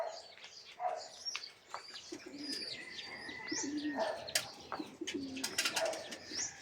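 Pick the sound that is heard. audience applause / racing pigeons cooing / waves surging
racing pigeons cooing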